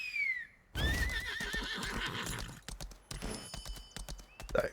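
Horse hooves clip-clop in a steady, close rhythm while riding in the video game Lost Ark, with a whinny at the start and faint background game sounds.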